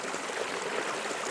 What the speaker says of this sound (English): I'm out standing here in the stream that I normally wouldn't be able to stand in.